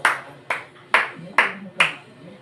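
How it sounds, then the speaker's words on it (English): Five sharp claps from a class for group 1 at a classroom teaching demonstration, evenly spaced about half a second apart, loud and close. "Let's give them a 5 claps."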